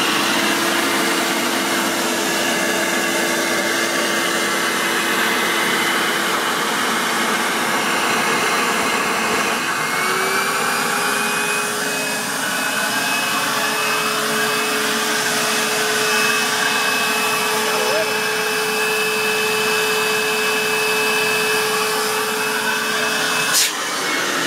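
A Mytee Air Hog 7303 portable carpet extractor's vacuum motor runs loud and steady with a constant high whine, and its pitch steps up partway through.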